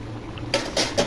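Three quick metallic scrapes and clinks sound close by as a spoon stirs a boiling snakehead fish curry in a pot.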